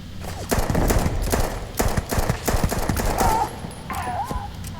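Rapid bursts from the XM 2311 pistol in Starfield, sharp repeated shots crackling loudly through the first part, then trailing off into quieter game ambience.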